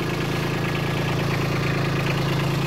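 A Kubota B2601 compact tractor's diesel engine runs at a steady, close idle, a continuous low throbbing drone with no voices.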